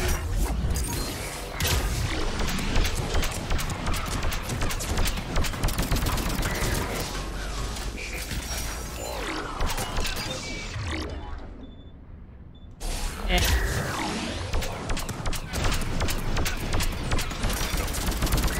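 Dense gunfire in the video game Mass Effect 3, loud sustained bursts of shots and mechanical clatter that drop away briefly near the end before resuming at full intensity.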